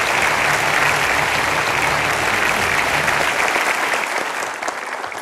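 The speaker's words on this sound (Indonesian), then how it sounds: "Mari kita sambut dengan aplaus yang meriah" Sustained, dense applause from a studio audience on an Indonesian television talk show, loud and steady for about five seconds before easing slightly at the end, with no speech over it.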